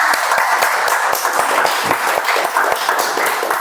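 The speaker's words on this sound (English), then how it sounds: "Can we have a round of applause for him, please?" Meeting participants clap together to welcome a guest, a steady burst of dense applause with individual sharp claps standing out near and loud throughout, no voices on top.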